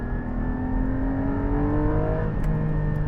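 Porsche 718 Cayman GT4 engine revving hard on the road, a loud continuous rising drone that climbs steadily in pitch, then briefly drops and resumes as gears change.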